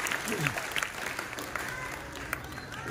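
Steady, close applause from the audience at a high school ceremony honouring scholarship students, dense clapping that holds for the whole stretch and swells at the end, with a voice briefly audible over it.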